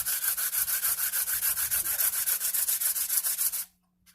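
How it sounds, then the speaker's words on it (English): A 120-grit pad sands guitar frets and the fretboard in about twenty quick, even back-and-forth strokes, close and scratchy, before stopping abruptly. "So I'll start with the 120 pad. And this also sands your fretboard at the same time."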